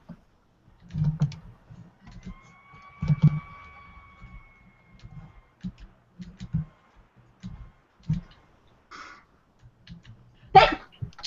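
A single sharp sneeze bursts out near the end of a quiet room recording, after scattered soft clicks, light taps and low thumps.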